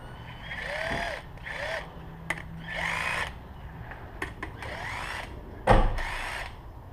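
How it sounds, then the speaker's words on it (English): A power tool buzzes in repeated short bursts while loosening connecting rod bolts during a BMW E36 engine teardown, the whirring starts and stops several times, close and fairly loud. "I'm gonna just loosen these, and then after that, I'm gonna get it ready so I can take them out."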